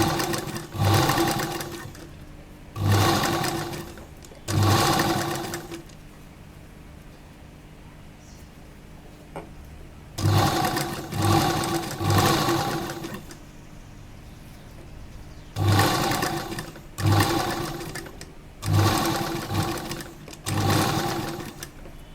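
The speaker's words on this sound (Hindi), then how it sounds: "इनको इसके ऊपर फोल्ड करते हुए यहाँ किनारे सिलाई लगाएंगे" Sewing machine running along a folded fabric edge of an A-line jacket dress, in a series of stitching bursts a second or two long separated by pauses, close and steady.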